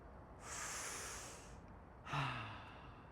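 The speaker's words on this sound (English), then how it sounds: "I'm just breathing, letting go" A person breathes deeply: one long, airy inhale followed after a short pause by a slower exhale with a slight voiced sigh at its start, close and soft.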